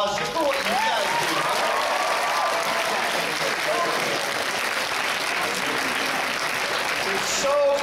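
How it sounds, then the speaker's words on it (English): Sustained applause from a convention audience at an anime fan event's closing ceremony, a dense, steady wash of clapping at full strength throughout, with crowd voices mixed in. "So give yourselves a round of applause just for what you guys do."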